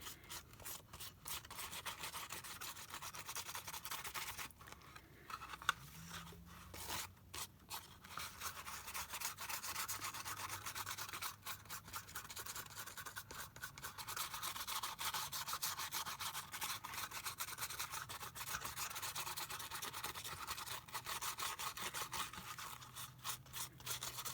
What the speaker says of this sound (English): a toothbrush really does work because it's stiff enough to loosen whatever's loose